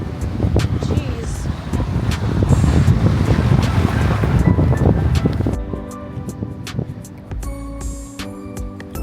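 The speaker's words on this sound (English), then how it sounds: "Today is so windy." Strong wind gusts on the Maltese seafront buffet the microphone in a loud, rumbling roar that eases after a few seconds, with faint surf and passing traffic behind; someone speaks briefly.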